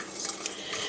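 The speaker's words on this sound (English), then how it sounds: "we're going to cook this just for a couple of minutes so that we can cook that flour" A roux of flour cooking in a pan for a 1980s Mexicali meatloaf, heard as a brief burst of spoon scraping and stirring against the pan with a faint sizzle underneath.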